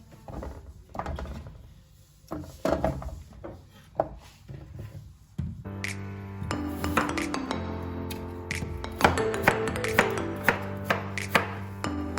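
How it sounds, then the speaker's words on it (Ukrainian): Potatoes tumble into a pan in a home kitchen while meat is being prepared, starting with scattered clattering and knocks, then a denser run of clinks and scrapes against the cookware, close and fairly loud with no voices. "Кладемо цю картоплю."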